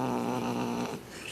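A cat's low purring growl, close and steady for about a second before trailing off.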